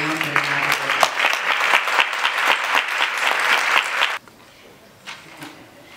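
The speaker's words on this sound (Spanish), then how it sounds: "Recibamos con un fuerte aplauso a Carmen Godino Soto" Dense applause from a crowd at an awards ceremony for about four seconds, then it cuts off abruptly to near quiet with a few faint scattered sounds.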